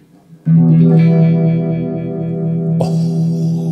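Electric guitar chords through a Uni-Vibe effects pedal ring out with a warbling, pulsing modulation, sustained and fairly loud, with a brighter strummed chord near the end.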